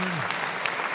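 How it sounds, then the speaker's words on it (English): Audience applause with hand claps from a live show crowd, a dense, steady wash of clapping that fills the brief moment evenly. "Thank you for all the hand claps."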